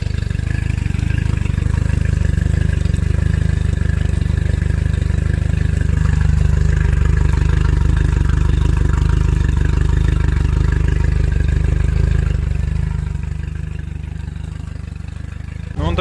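A Parsun F60 outboard motor, three years old, runs steadily at close range with a low, throbbing drone and faint mechanical clatter, easing off slightly near the end.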